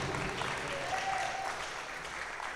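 A church congregation claps, dense and continuous applause at a moderate distance that holds steady for the whole stretch with no speech over it.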